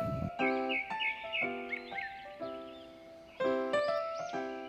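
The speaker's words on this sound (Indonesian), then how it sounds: "kambing" A goat bleats several times in a row, each call drawn out and wavering, with birds chirping faintly in the background.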